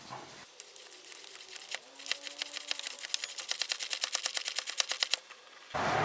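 A hand pump moving automatic transmission fluid sounds as a run of rapid, evenly spaced mechanical clicks that quicken and build in loudness, ending in a brief louder rattle.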